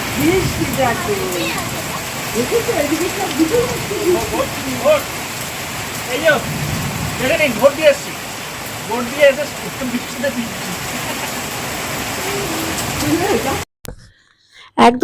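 Rain falls steadily outdoors in a rural setting, a continuous hiss under frequent talking voices, then cuts off abruptly near the end.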